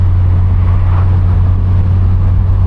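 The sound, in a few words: car engine with upgraded exhaust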